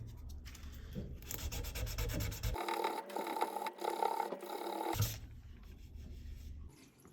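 A dry scouring rush stem rubbed briskly across a surface, giving a steady rasping scrub that runs for several seconds in a quiet setting, with no voices.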